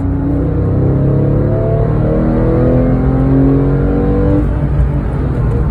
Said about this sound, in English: If I accelerate now and hold the steering wheel still straight ahead and accelerate